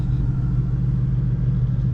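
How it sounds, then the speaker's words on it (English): Engine of a Ford Mustang GT/CS heard from inside while driving to a Saturday morning cars and coffee meet; a loud, steady low rumble with a deep droning tone throughout, no talk. "I'm in the Mustang"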